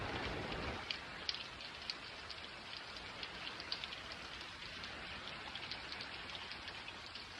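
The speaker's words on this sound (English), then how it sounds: "When it's raining" Steady rain falls across a wide area, a dense even hiss dotted with sharper close drops pattering on a surface, continuing without break and with no voices.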